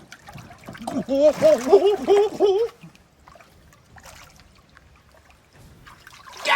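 Hand plunging into murky water, splashing and sloshing loudly for a couple of seconds close by, followed by quieter dribbles and near silence.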